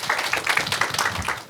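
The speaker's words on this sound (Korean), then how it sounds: "우리 전북대 권인탁 교수님께 다시 한번 큰 박수" Audience applause for Professor Kwon In-tak of Jeonbuk National University after his keynote at a Namwon lifelong learning forum: a dense, steady patter of many hands clapping at moderate loudness with no talk over it.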